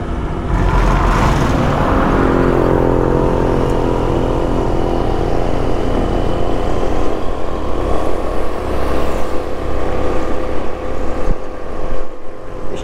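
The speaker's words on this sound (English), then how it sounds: "let this trike get past." A trike engine drones past a helmet-mounted camera, loud and steady throughout under heavy wind buffeting, with a deep rumble that swells and eases slightly toward the end.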